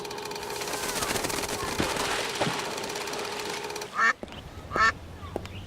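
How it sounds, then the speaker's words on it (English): Ducks quack in the point-and-click adventure game Secret Files 2: Puritas Cordis, first as a steady mechanical rattle and murmur, then two loud, close quacks near the end. "Could I please have one of those baguettes? To feed the ducks?"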